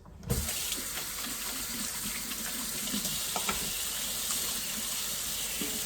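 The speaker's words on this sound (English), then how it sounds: "Let me wash my hands." Steady rush of water from a kitchen sink tap as hands are washed after handling raw pork, a continuous close hiss with a few faint clinks, no talking.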